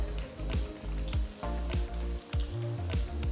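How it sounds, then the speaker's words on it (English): Oil sizzles and crackles as rice fingers drop in to deep fry, with soft splashy bursts at intervals over a bubbling background. "Once the oil is hot, gently drop in the prepared fingers."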